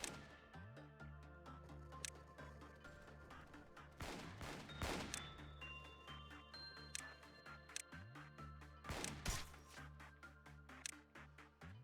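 Gunfire in the video game Lobotomy Corporation, with bursts of shots and several sharp cracks heard close over steady game music.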